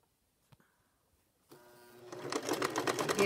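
A sewing machine stitches a three-step zigzag across fabric strips, starting after a faint click and then running as a rapid, steady mechanical chatter that grows louder and denser, close and alone.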